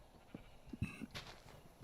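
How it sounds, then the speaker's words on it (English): Sheep in the video game Minecraft bleat close by in a few short, separate calls, a low and moderately quiet wavering bleat repeated over soft ambient game sound. "And now we have a few sheep right close to us."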